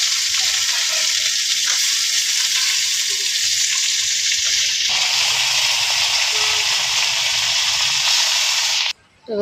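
Vegetables sizzle and fry in hot oil in a wok, a loud steady hiss that runs close and unbroken, with brief stirring scrapes, then cuts out abruptly near the end.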